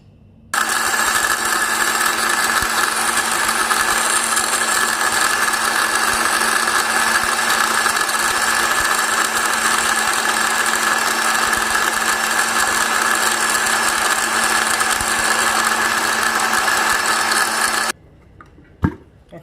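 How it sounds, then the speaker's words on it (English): An electric grinder blending almonds runs as one loud, steady whir for about seventeen seconds, then cuts off abruptly, leaving a brief knock and quiet. "blend this almond separately in my grinder"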